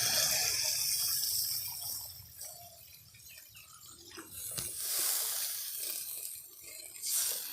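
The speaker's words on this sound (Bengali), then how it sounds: "এবার ঝোলের জন্য জল দিয়ে দেব।" Water pours into a curry in a pan for the gravy of a fish curry, a steady splashing rush with a few louder surges, close and with no talk.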